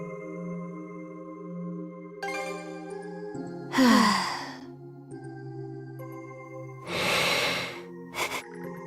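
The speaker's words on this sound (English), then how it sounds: "The sound of Karja's steady breathing fills the air." A sleeping video game character named Karja breathes steadily: two slow, airy breaths a few seconds apart, with a short puff at the end, over soft sustained game music tones.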